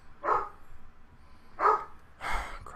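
A dog barks three times indoors, short loud woofs spaced about a second apart, close by with no talk over them.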